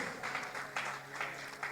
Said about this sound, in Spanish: Denle el aplauso a Dios